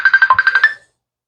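A mobile phone ringtone plays a quick series of about eight rhythmic electronic chirps, close and loud, then cuts off abruptly during a home cooking session.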